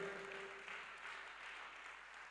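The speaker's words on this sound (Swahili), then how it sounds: "Piga makofi kama unayoweza." A church congregation claps together during worship, a steady dense patter of many hands held at a constant level for the whole stretch, with a faint sustained tone running beneath it early on.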